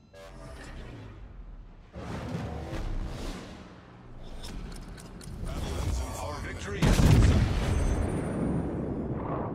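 Naval gunfire in World of Warships aboard the battleship Montana, heavy booming shots and blasts layered with whooshes and mechanical clatter, building to a loud burst near the end; mixed game sound effects fill the clip continuously.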